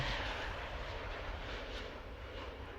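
An airplane passes overhead in Train Sim World 3, a broad steady engine roar with rushing air that fills the short stretch and fades slightly toward the end.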